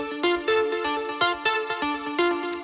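A melodic house synth lead loop at 123 BPM, built on three notes, plays bright, harmonically rich plucked tones in a steady repeating rhythm, each note ringing out before the next, close and prominent with no voices.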